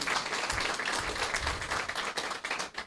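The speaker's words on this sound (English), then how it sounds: "Round of applause for that." An event audience breaks into applause, a dense wash of many hands clapping that holds steady and then starts to thin out toward the end.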